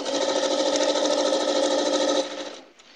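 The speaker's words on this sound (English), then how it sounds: "I'm going to sew this row together" A sewing machine stitching a row of a log cabin quilt, a loud steady rapid whir for about two seconds that then slows and stops.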